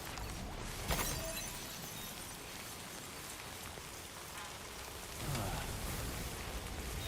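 Steady, dense video game rainfall hisses continuously, with a brief louder splash near the start and a swell of heavier rain toward the end.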